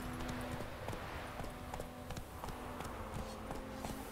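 Clip-clop of the horse Roach in The Witcher 3, a steady run of hoof beats under a constant background bed, with no talk.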